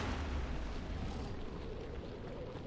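Will-o-wisp explosions from the video game Dark Souls make a dense, continuous roaring blast with heavy low rumble, loud and sustained throughout without any voices.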